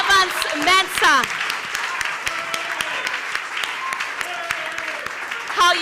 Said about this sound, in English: a round of applause for the head of the political desk at Multimedia, Evans Mensah